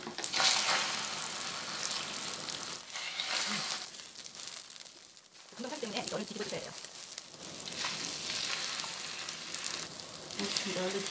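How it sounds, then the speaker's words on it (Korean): Thin beef slices dipped in egg for Korean yukjeon sizzle and fry in an oiled frying pan, a steady close crackle that dips briefly mid-way and swells again, with faint voice nearby. "이렇게 해서 이제 후라이팬에다가 이제 붙여주시면 돼요."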